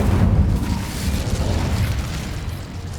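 An Incendio fire spell from Hogwarts Legacy erupts in a loud, rumbling burst that sounds like an explosion, then fades into a long, rolling decay.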